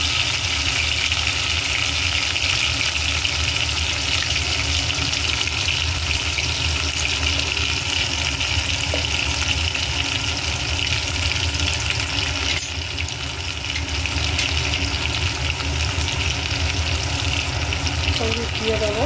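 Tomato and ginger paste frying in hot oil in a pan for a Bengali fish dish, producing a steady, dense sizzle throughout, close and constant, with faint occasional stirring and no voices.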